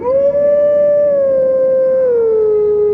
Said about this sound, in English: While in wolf form, there are specific areas where Link can howl a particular tune